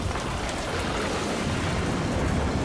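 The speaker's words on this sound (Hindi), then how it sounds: "ये बारिश कहां से आ गई?" Steady heavy rain pours as a dense, unbroken hiss, loud and even throughout with no voices over it.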